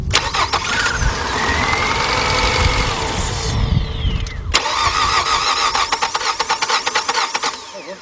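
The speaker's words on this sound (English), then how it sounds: "let's try it out. Let's crank it over." A 2003 Nissan Altima engine cranks with a whirring starter for a few seconds, then catches and fires, settling into a rough, uneven idle with rapid knocking pulses, loud and close with no talk.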